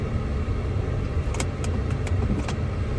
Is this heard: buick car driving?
yes